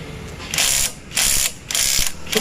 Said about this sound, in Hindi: नट एकदम बड़े आराम से खुल रहे हैं। यह फायदा होता है इंपैक्ट रिंच मशीन का।